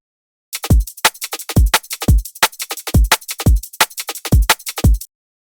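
Liquid drum and bass shuffle loop from the Reverie sample pack: crisp kicks, snares and busy ghosted hi-hat hits in a swung, rolling pattern, loud and dry with no voices, about two bars long.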